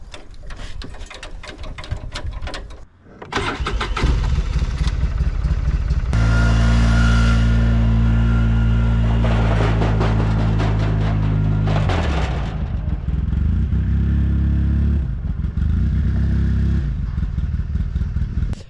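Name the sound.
vehicle engine starting and moving a trailer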